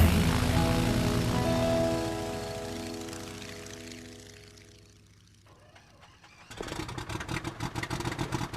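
A propeller plane's steady engine drone holds loud, then fades away and returns as a dense, pulsing buzz, with no talking over it.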